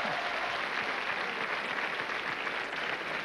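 Faint, distant applause, a continuous wash of many hands clapping at a steady low level with no voices.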